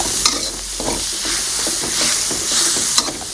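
Meat stir-fried in a pan with chopped tomato, a loud close sizzle broken by repeated scraping and stirring strokes of a spatula, with sharp clacks at a few points.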